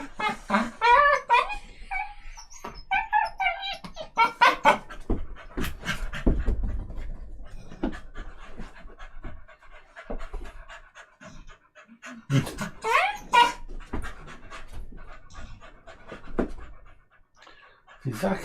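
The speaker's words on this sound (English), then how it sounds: "both of these are rescue dogs from Animal Lifeline" Two older rescue dogs pant rapidly and whimper close by in rhythmic bursts of heavy breathing, mixed with a few whines. A person talks over them at times.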